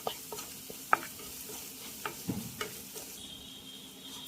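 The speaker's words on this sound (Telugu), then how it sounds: "సాల్ట్ వేసే మొత్తం మిక్స్ చేసుకుందాం." Salted, turmeric-spiced masala for an Andhra catering-style potato curry sizzles in a pan while being mixed, soft scrapes and a few sharp clinks of the spoon over a low steady frying hiss, close by, with no talk.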